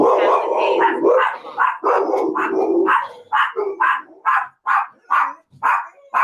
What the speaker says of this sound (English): I told you the dogs are barking today